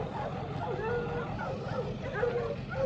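Several ranch dogs yip and bark excitedly in short bursts, fairly faint over a low outdoor background with some murmur.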